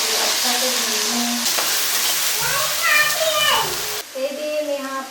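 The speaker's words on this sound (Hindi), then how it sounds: "ये लहसुन अदरक के पेस्ट है संगवारी हो, प्याज डाल दो, अच्छा से भूनना" Onions frying with garlic ginger paste in a home kitchen pan, a continuous sizzle and hiss under a voice talking throughout, with occasional stirring.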